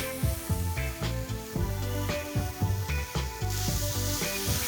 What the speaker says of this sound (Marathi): छानपैकी आपल्याला हे ना हाय फ्लेमवरती परतून घ्यायचं आहे.